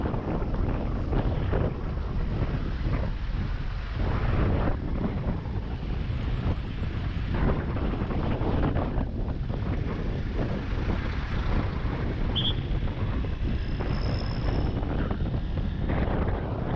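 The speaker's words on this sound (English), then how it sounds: "It's really windy today as we're heading uphill. We're really getting caught with like some strong gusts." Strong wind gusts buffet the microphone while riding uphill on mountain roads in Laos, a loud continuous roar with surging pulses throughout.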